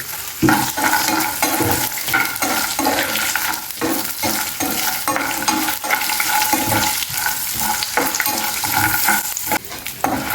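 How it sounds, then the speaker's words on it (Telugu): Ingredients for Mysore bonda dry-roasting in a pan with dried coconut, stirred steadily so a continuous close scraping sizzle runs throughout with repeated stirring strokes. "చక్కగా అన్నీ వేయించేసేయాలి"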